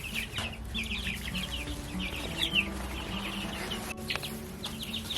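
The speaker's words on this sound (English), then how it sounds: "Pretty chickens." Chickens clucking in a garden yard, several close birds giving repeated short clucks and chatter over a low steady background rumble.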